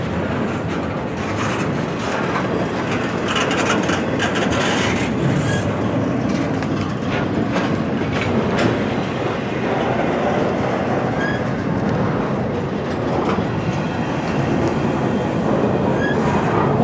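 A long CSX freight train hauling containers rumbles steadily past nearby, wheels clacking rhythmically over the rails with continuous heavy noise throughout.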